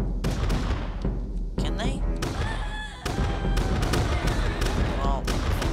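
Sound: musket volley gunfire in Totally Accurate Battle Simulator video game

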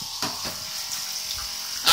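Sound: low flow bilge suction pump pumping water through pipe

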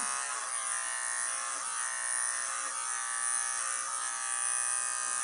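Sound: electric hair clipper cutting hair

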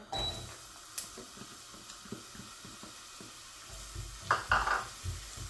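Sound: onion frying in a pan

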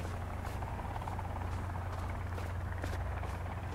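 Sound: helicopter flying in the video game Sons of the Forest

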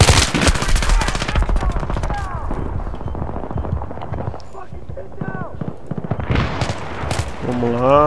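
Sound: gunfire from Battlefield 3 video game

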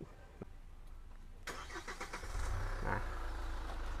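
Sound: car engine remote-started by phone

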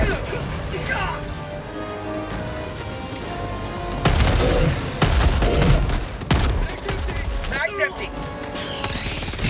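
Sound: gunfire in the video game Helldivers 2

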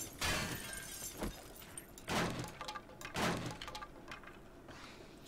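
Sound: zombie breaking through in 7 Days to Die video game

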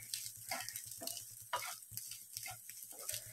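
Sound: stirring egg and ground paste in a pan

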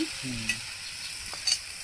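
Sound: frying tomato, onion, ginger, garlic and chilli masala

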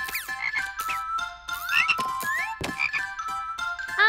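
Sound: frog croaking

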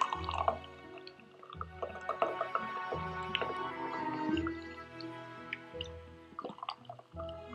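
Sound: sparkling water poured into cups

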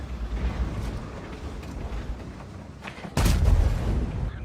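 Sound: tank cannon shots in World of Tanks video game

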